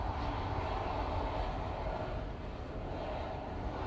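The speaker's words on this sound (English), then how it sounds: "Ryanair coming on. It's off to Alicante using the 737 MAX 8." A Ryanair Boeing 737 MAX 8 jet departing Manchester Airport on a windy day, a steady, loud, broad engine roar that holds constant throughout, with no talking.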